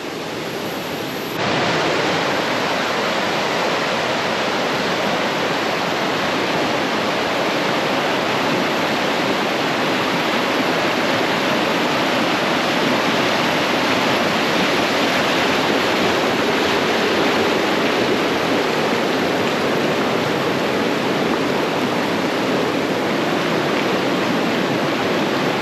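A rain-swollen river rushes past at a hiking trail crossing near Lata Makau, Kuala Kubu Bharu, a loud, continuous broadband roar of flowing water that holds steady throughout with no voices.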